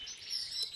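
Lizard canaries chirp in thin, high tweets that come in a quick run over a steady faint background, with no talking.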